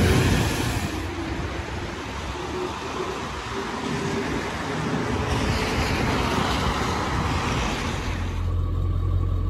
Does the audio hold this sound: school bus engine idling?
yes